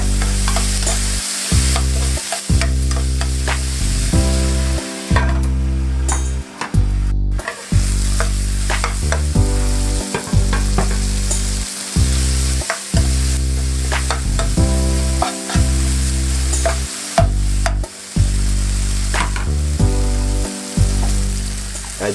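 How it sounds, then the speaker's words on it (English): Onion and tomatoes sizzle steadily in a pot while a spoon stirs and scrapes through them in regular strokes, a loud close frying hiss running unbroken beneath the rhythmic stirring. "Stir to avoid burning the onion."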